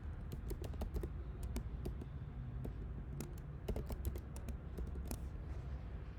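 Keys clatter quickly and unevenly on a computer keyboard as code is typed, a close, quiet run of sharp taps with short pauses, over faint room hum and no talking.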